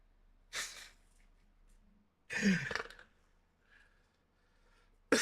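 A short, sharp sneeze-like burst rises out of quiet breathing, then a few faint breaths follow before another abrupt burst right at the end.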